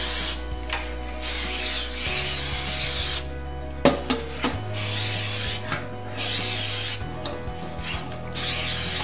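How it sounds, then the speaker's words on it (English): Cooking oil sprays into a cake pan for a gluten-free chocolate cake, with several short hissing bursts and pauses, close up, mixed with rubbing and clattering of the pan. "I'm just gonna spray it with some oil."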